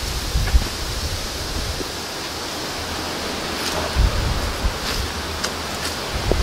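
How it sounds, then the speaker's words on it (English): Strong wind roars steadily across a rocky hilltop at night near cave outcrops, buffeting the microphone with a broad rushing hiss and occasional heavier gusts. No one speaks. "Wind's picking up as you'll hear on the mic"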